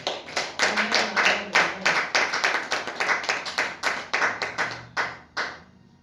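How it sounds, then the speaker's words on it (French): A church congregation claps in rhythm to acclaim the Lord, a steady run of loud, close, sharp handclaps that thins out and stops near the end. "Est-ce qu'on peut acclamer le Seigneur?"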